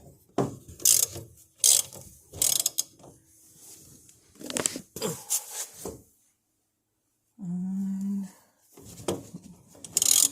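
Ratchet wrench clicking while loosening ball joint hardware on a Silverado A-arm, bursts of close ratcheting clicks and metallic rubbing separated by pauses, with a short low hum near the end.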